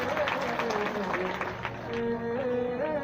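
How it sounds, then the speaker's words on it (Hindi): A crowd claps at a Shiv Puran religious discourse, steady mid-distance applause that runs throughout while a speaker's voice carries on over it. "बजाओ ताली।"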